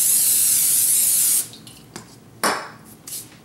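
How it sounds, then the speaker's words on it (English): A loud, steady hiss of cooking spray from an aerosol can for over a second, followed by light clinks and short spray bursts. "you can actually spray that down with the cooking spray as well."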